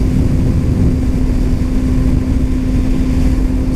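A 2019 Kawasaki Ninja ZX-6R cruises at speed in sixth gear, giving a constant loud engine drone with a steady hum buried in rushing wind noise and no voices.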